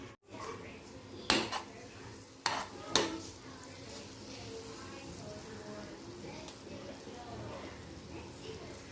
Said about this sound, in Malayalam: ഇനി ഈ ചിക്കൻ ഫ്രൈ ചെയ്ത സെയിം ഓയിലിലേക്ക് നമുക്ക് പച്ചമുളകും കറിവേപ്പിലയും മറ്റെല്ലാം വഴറ്റിയെടുക്കാം